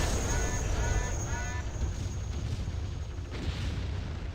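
Cannon fire from a mech in MechWarrior 3 booms heavily with a rumbling low blast that decays over several seconds, with a short whine near the start, and a voice speaks over the game sound.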